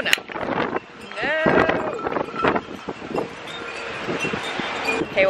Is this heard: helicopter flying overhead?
no